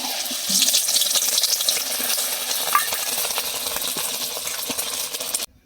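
Beaten egg goes into hot mustard oil in a kadai and fries with a loud, steady sizzle and crackle that cuts off abruptly at the end.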